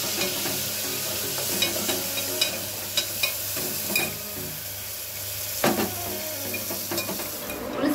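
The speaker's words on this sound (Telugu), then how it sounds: "ఇప్పుడు ఈ టమాటాలలో సగం టమాటాలు వేసుకున్నాము." Tomatoes and onions fry together in a pan for fish curry, giving a continuous close sizzle with occasional soft clinks and scrapes of a stirring spoon and no speech.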